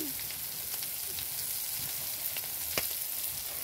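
Curry frying in oil in a pan, a steady close sizzle and crackle running throughout, with a few faint pops and stirring touches.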